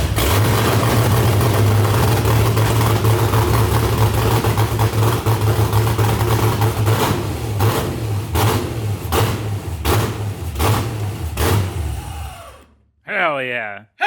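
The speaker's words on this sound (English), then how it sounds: "Sounds rowdy, open header." LS V8 swapped into a Miata runs with an open header, a loud, raw, rumbling idle with repeated sharp blips and revs, then cut off near the end as a voice speaks briefly.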